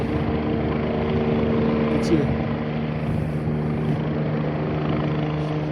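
A helicopter flies overhead, giving a steady, loud, droning rotor and engine hum that holds constant throughout, with a faint brief blip partway through.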